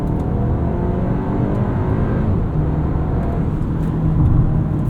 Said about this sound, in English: Let's listen to the engine.